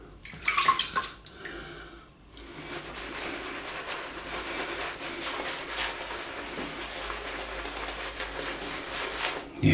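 Water runs steadily from a tap with a soft, hissing splash, close by and moderately quiet, after a brief burst of clattering at the start.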